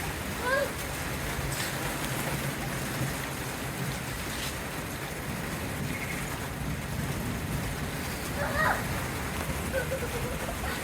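Steady rain pours down during a thunderstorm, a dense continuous hiss filling the whole stretch at even loudness, with a few faint higher sounds poking through.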